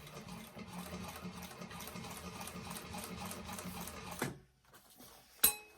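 A sewing machine stitches a bag seam with a steady, fast mechanical whir that stops abruptly, then a brief pause and a sharp click as the stitching is reversed.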